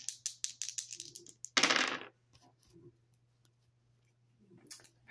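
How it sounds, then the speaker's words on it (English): Dice rolled and tumbling across a surface, a quick run of sharp clattering clicks ending in a louder rattle, followed by a few faint taps, close and with no speech. "rolling the dice to see what I need to shuffle the deck to"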